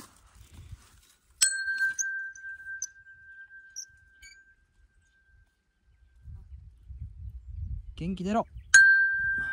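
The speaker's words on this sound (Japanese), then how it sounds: "元気の出る鐘。" A bell on a mountain trail through the Oze marshland is struck once with a clear, ringing tone that fades over a few seconds. Footsteps and a voice follow, then a second strike closes the stretch.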